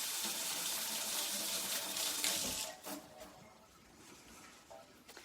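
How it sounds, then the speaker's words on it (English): Water runs from a kitchen tap as hands are quickly rinsed beneath it, a steady close splashing hiss that cuts off partway and leaves faint drips. "give my hands a quick rinse"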